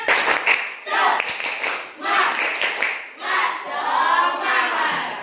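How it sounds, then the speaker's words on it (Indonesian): A classroom of children performs a rhythmic spirit clap, bursts of group clapping in a patterned beat mixed with shouted chanting voices, loud and close throughout. "Tepuk semangat."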